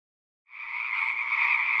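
Frogs croak in a single sustained, buzzing drone that starts abruptly after a brief silence and holds steady, fairly faint, with no voices.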